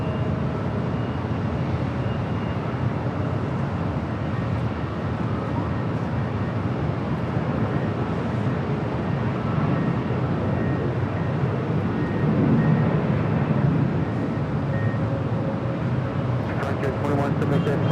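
A Boeing 787-9 Dreamliner airliner departs Los Angeles airport bound for Paris, producing a steady, broad jet roar that fills the whole stretch without pause, with a faint bit of talk toward the end.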